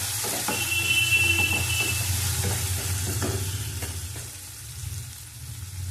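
Fish masala with garlic and ginger paste frying in a pan: a low, steady sizzle with a few sparse spoon scrapes and a brief thin high tone early on, close and without speech.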